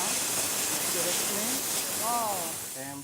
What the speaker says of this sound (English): And then he's going to steam it now.